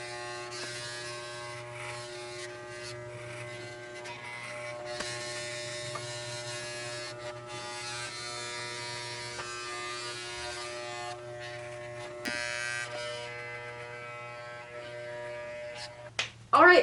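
Electric clippers buzzing steadily while shaving hair for a deathhawk haircut, a close constant hum with small changes in tone as the blades move and a few clicks near the end.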